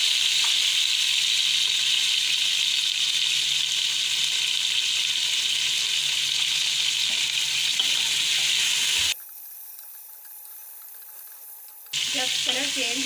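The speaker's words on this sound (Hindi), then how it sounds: "इसको प्याज के साथ हम फ्राई करेंगे।" Desi chicken frying with onions in a pan gives a steady, bright sizzle that cuts out briefly near the end before resuming.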